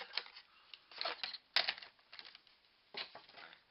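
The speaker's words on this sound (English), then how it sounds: "this is actually a really big sheet, so I'm going to cut it in half." A large sheet of card paper is cut in half, heard as a series of close, dry crisp cutting and crinkling bursts with brief pauses between them, quiet and without speech.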